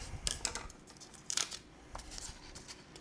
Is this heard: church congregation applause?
no